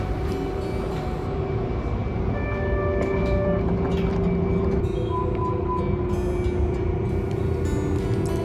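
A Hankai Tramway Type 701 tram hums steadily at a station platform, a low electric drone with faint tonal whines over a rumbling background, constant and unbroken.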